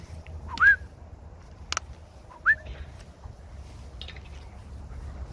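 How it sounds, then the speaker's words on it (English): A person gives a couple of short, rising whistles to call a Rottweiler during outdoor leash training. The chirps are brief and separate, over quiet ambient noise. "A little whistle first."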